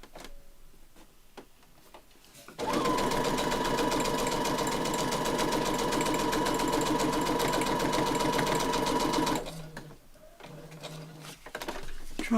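Sewing machine running a zigzag stitch, a loud steady mechanical whir with rapid ticking that starts abruptly, runs for about seven seconds at close range, then stops, leaving quieter handling clicks.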